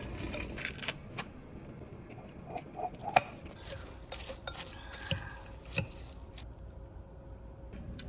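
Salad is chopped into bite-sized pieces on a board, with a close, irregular run of light knocks and taps from the knife, some brief clinks among them, and no talking.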